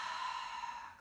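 A deep, cleansing yoga exhale pushes out as a steady, breathy rush that stays close and fairly loud for the full second, easing off slightly toward the end.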